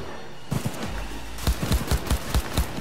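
Gunshots in the video game Cyberpunk 2077: a string of sharp, loud reports, scattered at first and then coming in quick bursts, with a low rumble in the background and no talking.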